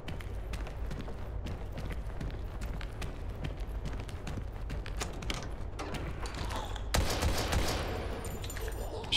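Rapid bursts of gunfire from the survival horror video game Daymare 1998, a dense run of sharp repeated shots over a steady rumbling game backdrop, with a brief louder flurry near the end.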